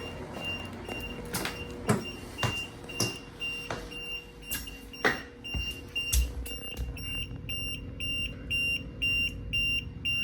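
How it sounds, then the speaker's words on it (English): A building fire alarm test in a garage sets off a repeating electronic alarm tone, overlaid by a series of sharp clicks and knocks, with a steady pulsing signal continuing toward the end. "Fire alarm in garage building B."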